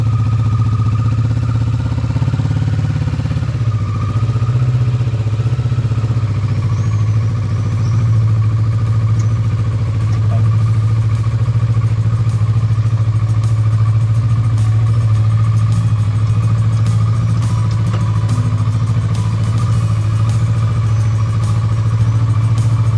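A motorcycle engine drones steadily at close range while the bike rides out of a 14th-century castle in Poland in the morning, a sustained low hum with faint mechanical clatter and no voices.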